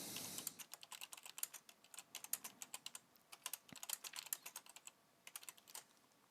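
Fingers type on a computer keyboard at close range, a quick irregular run of soft clicking keystrokes with brief pauses between bursts, quiet and with no voices.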